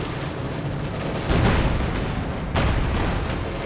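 Gunfire and explosive booms from a Company of Heroes 2 battle in snow with bunkers and Panzer armor, with a dense continuous rumble of shots and two heavier bursts.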